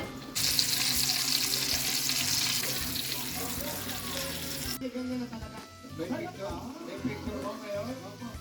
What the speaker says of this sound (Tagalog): Tsaka lang ako nagprito ng chicken breast para meron kaming pagkain sa tanghalian ni Lucas bago siya pumasok sa school.